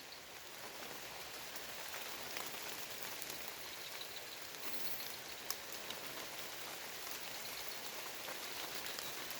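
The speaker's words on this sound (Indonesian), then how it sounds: "ini hujannya sangat lebat ya, atau sangat deras sekali turunnya" Heavy rain pours down steadily, a dense hiss of countless drops hitting surfaces, loud and unbroken throughout.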